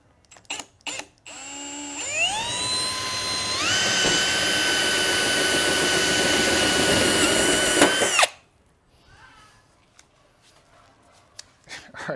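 A power drill boring a hole through the hood metal of a 2015 Subaru WRX, whining up in pitch and holding a loud steady grind for about six seconds before cutting off, with brief clicks and handling noises before and after.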